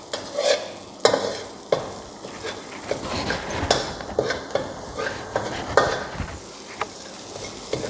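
White pepper and coriander root stir-frying in a wok, a steady sizzle broken by sharp scraping clacks of a spatula stirring at an irregular rhythm, close and moderately loud.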